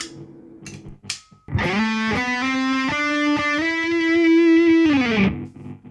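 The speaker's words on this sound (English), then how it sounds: "And let's turn the delay and reverb off." Electric guitar through a Positive Grid Spark amp with delay and reverb switched off, a single loud, slightly distorted sustained note held for about three seconds before stopping dry, framed by soft string and handling noises.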